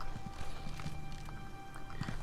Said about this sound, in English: No, I'm riding my horse.